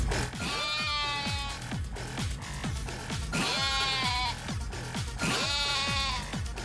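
Sheep bleat in the video game Yakuza: Like a Dragon, with loud wavering cries in three clear bursts over a busy, rhythmic game soundtrack with repeated low thumps.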